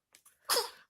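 Two faint quick inhalations followed by one sharp, airy sneeze burst that trails off within half a second.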